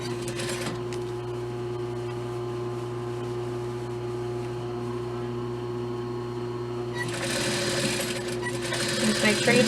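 Steady, close mechanical whir and hum of a sewing machine stitching a gathered skirt to a dress bodice, running continuously and growing louder and brighter near the end.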